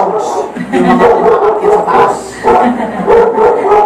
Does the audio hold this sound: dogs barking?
yes